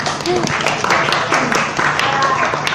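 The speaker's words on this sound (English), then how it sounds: "Come on, round of applause!" Applause from the audience at an HIV awareness forum opening a cycling poster tour in the Philippines, a dense steady patter of clapping mixed with crowd voices and cheering.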